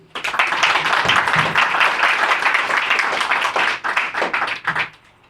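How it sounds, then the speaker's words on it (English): Sustained, dense clapping from an audience welcomes keynote speaker Michael de Groot at a ThinkFest gathering, loud and close for about four seconds before thinning into scattered claps and stopping. "Could everyone give a big round of applause, show of hands, our appreciation for Michael."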